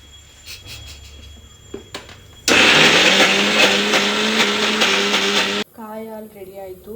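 A mixer grinder grinding coconut with organic jaggery roars loudly for about three seconds after some faint knocks, then cuts out abruptly as a voice starts talking.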